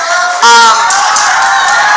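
A live audience bursts into loud cheering, whoops and shouting that swell suddenly and hold steady as a dense crowd roar.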